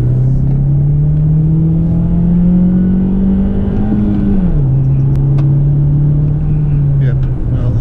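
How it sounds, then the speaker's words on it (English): An MG HS car engine on a night drive, a steady rising hum of revs climbing slightly then dropping back to a sustained drone, heard from inside the cabin with continuous road rumble. "Let's just rev it up a bit."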